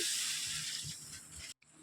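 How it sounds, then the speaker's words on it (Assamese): Water poured into a hot pan of frying pork with bitter leaves, giving a loud, steady sizzling hiss that fills the moment, then a sudden brief cut before the sizzle resumes. "মই কেইছেকেণ্ডমান ভাজি ল'লোঁ আৰু এতিয়া ইয়াতে দিম পানী"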